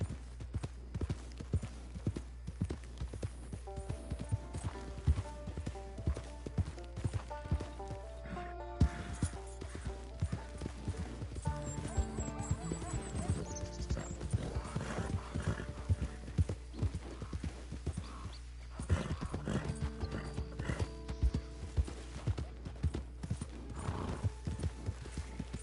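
A horse gallops steadily in the video game Red Dead Redemption 2, its rapid clip-clop hoofbeats continuous and close, with an occasional whinny over a steady game backdrop.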